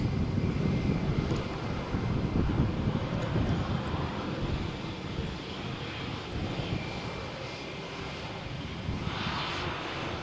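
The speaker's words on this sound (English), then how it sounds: "next departure is Vueling flight to Santiago de Compostela" A Vueling airliner bound for Santiago de Compostela departs Malaga Airport runway 13 on a stormy morning, its jet engines a steady loud rumbling roar that slowly fades with some wind noise.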